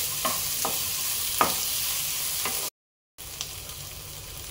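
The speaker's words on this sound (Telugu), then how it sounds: "అన్నీ కొంచెం పచ్చివాసన పోయే వరకు మనము వీటిని వేయించుకోవాలి మంచిగా" Onions, tomatoes and cashews frying in a pan for a dhaba-style chicken curry, a soft steady sizzle with several brief spatula scrapes, cut by a short silent gap before the sizzling resumes.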